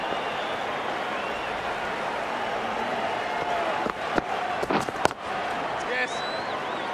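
Stadium crowd noise at a Cricket World Cup 2019 match between Sri Lanka and the West Indies, a steady roar with a few sharp knocks and bursts of cheering partway through, under a commentator's voice.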